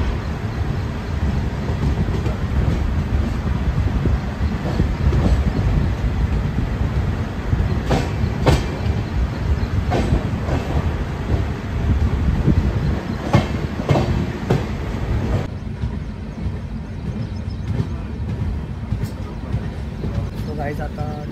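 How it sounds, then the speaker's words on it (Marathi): A train runs along the Lonavala rail route with a steady loud rumble and rattle of carriages, recurring wheel clacks and squeals, and a person talking intermittently over the noise. "आता ट्रेन इकडनं निघलेली आहे"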